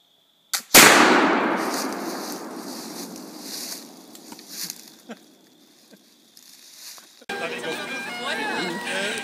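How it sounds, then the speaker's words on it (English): A single gunshot is fired at an old log outdoors, a sharp loud crack with a long decaying rumble and rolling echo. Faint wind follows, then voices start near the end. "I'll shoot that old tree."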